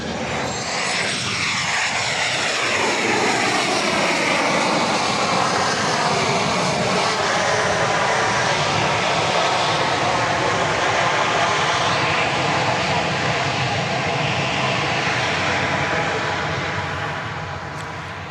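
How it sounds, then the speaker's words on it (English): A JSX Embraer 145 regional jet arriving from Houston Hobby lands at Dallas Love Field, its loud, steady engine roar filling the air close by and holding strong throughout before easing slightly at the end. "Coming in from Houston Hobby Airport, Flight 285, and it's going to get off the runway in order that another plane can land."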